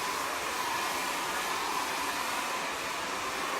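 A blow dryer runs steadily at close range, a continuous airy roar that holds an even level throughout with no talking.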